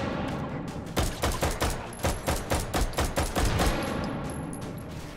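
Gunfire in the VR game Hot Dogs, Horseshoes & Hand Grenades: a quick run of loud, close shots fired in a rhythmic burst of about a dozen reports, with no talk.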